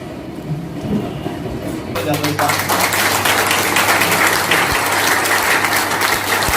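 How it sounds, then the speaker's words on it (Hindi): An audience at a seminar in Dehri-on-Sone, Bihar, breaks into loud, dense clapping that starts abruptly after a couple of seconds of quieter room noise and keeps going steadily. "कुछ लोग तो ताली बजा रहे हैं, जोर से बजा रहे हैं"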